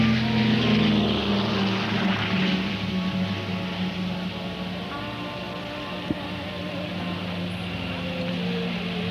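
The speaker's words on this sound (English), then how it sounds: "Now, you heard the C-47s." Several C-47 military cargo planes fly past at a 1994 airshow in Sussex, their piston engines giving a steady, loud propeller drone with a throbbing hum that fades slightly over time.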